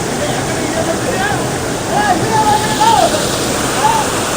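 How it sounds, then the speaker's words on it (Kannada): Water falls forcefully in a loud, continuous rushing roar at a temple festival and fair, with faint voices mixed in beneath the constant wash. "ಸಿಕ್ಕಾಪಟ್ಟೆ ಫೋರ್ಸಾಗಿ ನೀರು ಬೀಳ್ತಾ ಇದೆ ಇಲ್ಲಿ"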